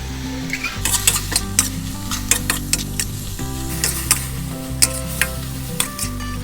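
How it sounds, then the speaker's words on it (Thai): Salted preserved radish stir-fries in oil with a bright steady sizzle and frequent sharp ticks of a spatula against the pan, repeating in a loose rhythm over a low steady background hum. "ผัดใช้โป๊ของเราให้สุกน้ำมันเลยนะครับ"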